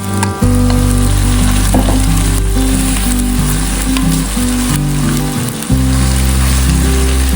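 Sweet corn kernels sautéing in a hot pan before coconut milk is added, a loud, dense, continuous sizzle heard up close, with a low tonal hum underneath and no voices.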